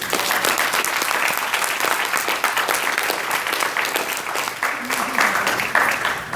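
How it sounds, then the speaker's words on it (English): Audience in a university lecture hall clapping together, a sustained dense round of applause, loud and steady for several seconds with slight swells near the end. "If you believe that we are the people, clap your hands."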